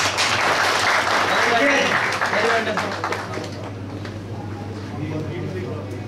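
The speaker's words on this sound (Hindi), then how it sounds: "तो तालियां भाई" Applause from a gathered audience in a hotel hall at a gift presentation, steady and loud for several seconds before slowly thinning, with a voice talking over it.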